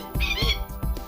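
Rescued urban birds of prey squawking while being prepared for release, three harsh, close squawks in quick succession, loud and alone.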